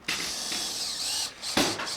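A power driver drives a screw into a window jack stud, giving a close, loud whirring buzz that holds steady, breaks briefly and then starts again for a short final burst.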